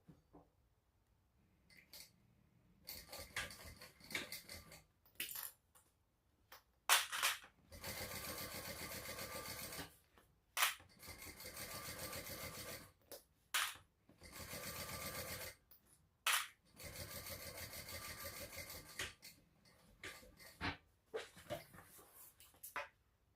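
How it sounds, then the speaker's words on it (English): A sewing machine top stitches a shoulder sling bag at a narrow seam, running in short steady buzzing runs of a few seconds each, separated by quiet pauses and soft handling noises. "I'm just going to top stitch at 1/8 of an inch seam allowance."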